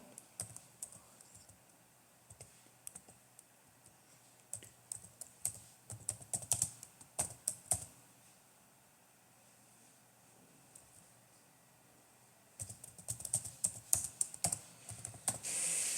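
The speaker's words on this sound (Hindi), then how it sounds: "यहां पे मैं टाइप कर देता हूं।" Rapid typing on a computer keyboard, a close, quiet patter of key clicks in bursts, pausing briefly in the middle before resuming, over a faint steady hiss.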